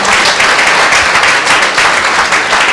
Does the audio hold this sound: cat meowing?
no